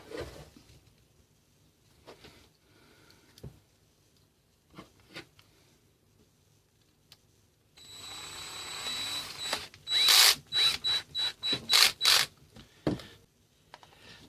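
A power drill on its lowest setting drives screws into a Roomba battery case, a handful of short, sharp buzzing bursts close by after a quiet stretch of faint handling clicks.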